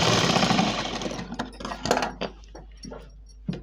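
A sewing machine stitching a plain blouse runs in a steady loud burst, then breaks into short separate stitching spurts and handling clatter, close by.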